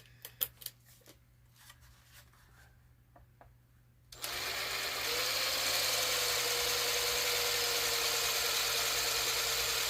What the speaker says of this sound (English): And we'll drill a couple holes.